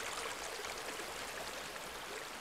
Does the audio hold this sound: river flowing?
yes